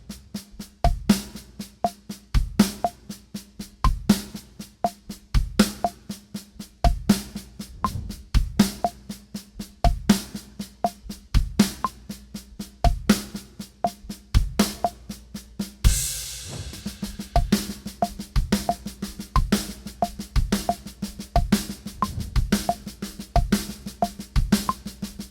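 Drum kit playing a displaced sticking pattern as steady 16th notes, with kick drum substituted for some strokes, close and loud, a crash-like wash near the middle, no talking.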